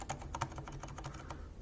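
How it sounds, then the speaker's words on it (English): Typing on a mechanical keyboard with ungreased switches and pudding keycaps gives a run of close, hollow, fairly loud clacks in an uneven, quick rhythm. "This is the one which is not greased. You can see these sound a little bit hollower and louder."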